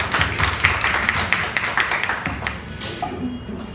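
Audience applause welcoming a guest at a leadership panel forum, a lively burst of many hands clapping nearby that tapers off toward the end into quieter scattered claps.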